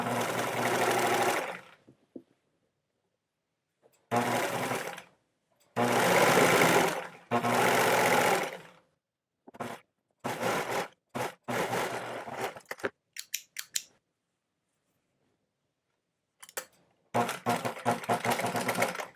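A sewing machine runs straight stitches along fabric seams, with a reverse back stitch used to lock the seam. Bursts of steady mechanical whirring start and stop in runs of varied length, some long and some short, with silent gaps between them.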